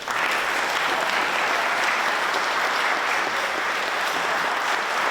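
Warm audience applause welcoming a folk singer to the stage, a dense, steady wash of clapping from a full crowd with no voices over it.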